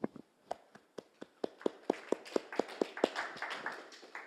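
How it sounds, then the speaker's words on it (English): Scattered clapping from a small audience at the close of a technical tutorial presentation, starting as a few separate claps and building into denser, uneven applause over a few seconds. "I forced you to clap here."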